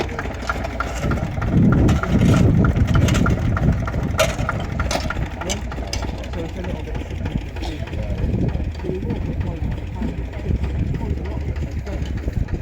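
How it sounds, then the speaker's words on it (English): Lister CS diesel engine driving a rock crusher at a steam rally, a steady, rhythmic chugging with a heavier crushing rumble near the start, close by, with people talking over it. "Doing a bit of rock crushing. With a Lister CS diesel."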